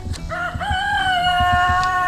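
A rooster crows a long, clear cock-a-doodle-doo close by, with chickens clucking and shuffling around it inside a backyard coop.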